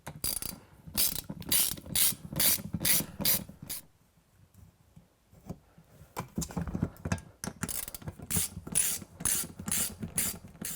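Hand ratchet turning 10 millimeter bolts into a full-motion TV wall mount, a close series of quick clicking strokes in two bursts with a brief pause between, no voices.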